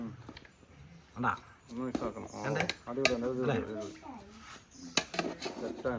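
A small spatula stirs ghee rice in a pan, giving repeated close metallic scrapes and clinks against the metal under steady conversational talk.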